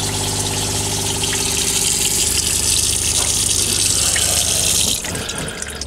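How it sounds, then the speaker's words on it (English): Steady rushing water sprays continuously for about five seconds, loud and close, then cuts off abruptly, leaving a quieter hum. "Spray the water."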